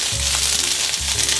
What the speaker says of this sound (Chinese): 把高丽菜放进来，快速翻炒。